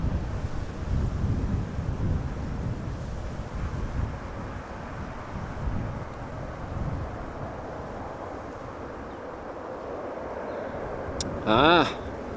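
Gusty wind buffeting the microphone outdoors at Amsterdam Schiphol Airport, a continuous rumbling roar that eases slightly over time, with a brief higher whine near the end.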